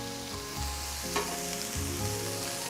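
Tofu scramble with tomato sizzles steadily in a hot pan while being stirred, a continuous close frying hiss broken by soft scraping stirs, with no talking.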